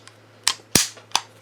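A CZ P-01 9mm pistol being reassembled, its slide smacked into place from the takedown position: a few sharp, close metallic clacks, one louder snap in the middle, with no talk.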